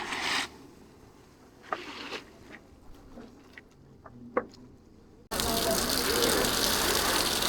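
Water gushes loudly over the deck of a fishing boat on the Arabian Sea off Mumbai as it is washed, a sudden sustained roar following a quieter stretch of scattered clicks and knocks.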